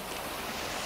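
A brief, steady wash of water and waves near the shore, with a broad, even rush and some wind, and no voices.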